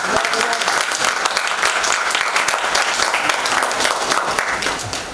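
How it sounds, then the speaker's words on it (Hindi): Audience applause filling a theatre after a staging of the Hindi play Ek Boond by Rangsangam Sanstha in Lucknow, dense and steady for several seconds with no talking over it. "अब लग रहा है कि एक बूंद जैसी ही ताली बजी है।"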